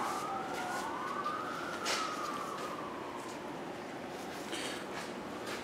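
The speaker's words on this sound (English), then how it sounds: "Got all kinds of sirens going on outside." A wailing emergency siren sweeps up and down in the distance, muffled as if heard from indoors, over a steady background hum.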